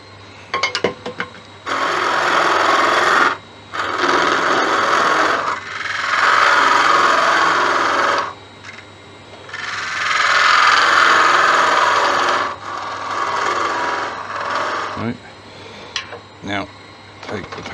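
A gouge works a crossgrain tigerwood blank spinning on a lathe, giving several loud sustained scraping cuts of a few seconds each, separated by short pauses and a low steady motor hum, with a voice talking briefly near the end.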